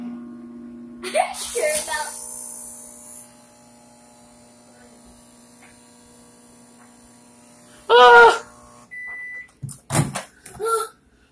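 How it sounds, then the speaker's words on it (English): A microwave oven runs with a Kinder Egg inside, giving a steady low mains hum that carries through the clip, with a few louder bursts of voices and clatter near the start and end. "Let's put this in the microwave."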